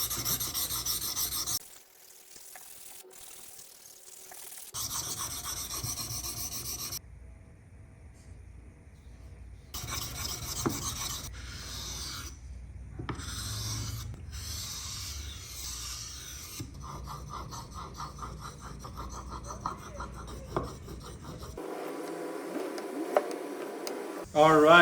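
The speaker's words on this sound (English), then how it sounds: "I'm going to start honing the knife by using this whetstone" A bushcraft knife made from an old rasp is honed on a 1000 grit whetstone, giving repeated gritty scraping strokes in bursts separated by pauses, with handling noise.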